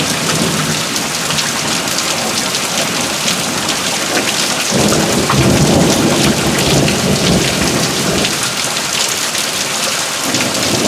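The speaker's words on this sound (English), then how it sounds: "It's got a lot of wind and lightning in it." A severe nighttime thunderstorm in Tornado Alley brings loud, constant downpour and wind, with a deep rolling thunder swell building midway before easing back to the steady roar of rain.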